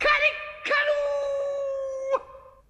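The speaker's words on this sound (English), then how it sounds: "It wailed through the ship and died away, to be followed by a crowing sound." A rooster crows in a long, clear cock-a-doodle-doo, loud and close, with a short rising call followed by a sustained wavering note that cuts off.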